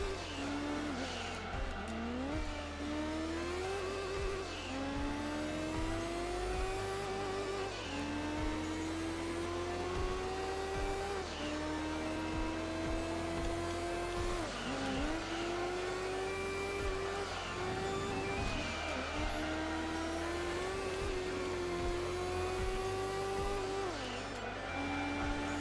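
Racing engines of a Dodge Viper and prototype cars in the Gran Turismo 3 video game, a loud continuous drone whose pitch climbs through each gear and drops at every shift, with tire squeal throughout and no talk.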